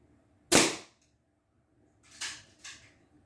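Three sharp air pistol shots at a towel target: one crisp loud crack, then after a pause two quicker, slightly softer pops close together, with near silence between.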